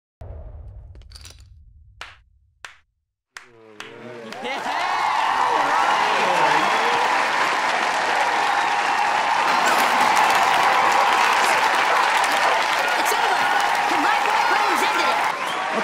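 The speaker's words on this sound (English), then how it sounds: "clap your hands." After a few sharp isolated sounds and brief pauses, an audience breaks into sustained loud clapping with crowd noise and voices mixed in, dense and continuous until the end.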